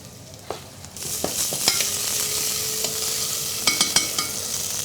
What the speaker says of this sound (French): On va y mettre les échalotes qu'on avait taillées, pour apporter un bel arôme aux lentilles, qu'on fait légèrement suer quelques secondes.